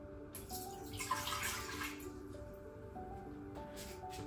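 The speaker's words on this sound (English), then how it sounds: "add our cup of water" A cup of water runs and splashes into a pressure cooker pot for a couple of seconds, then trickles off amid soft clinks and tonal kitchen hum.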